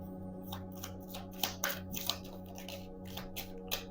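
Tarot cards are shuffled and drawn by hand, giving soft riffling swishes and light flicks and taps close by over a low background hum.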